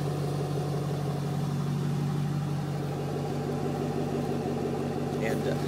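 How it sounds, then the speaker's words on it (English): A 2006 Ford Mustang GT convertible idles steadily with a low, even exhaust rumble throughout, continuous and unchanging. "Wanted you to be able to listen to that exhaust."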